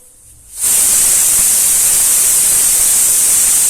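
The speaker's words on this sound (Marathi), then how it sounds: "तर इथे आता कुकरची शिट्टी जेव्हा होते तेव्हाच आपल्याला गॅस बंद करायचा आहे" A pressure cooker cooking drumstick pods suddenly lets out a loud, steady jet of steam hissing that starts abruptly after a short quiet moment and holds constant at full strength to the end.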